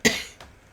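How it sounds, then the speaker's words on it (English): A single sharp cough rings out close to the microphone, followed by a softer second catch of breath, with no talking. "I'm going to cough."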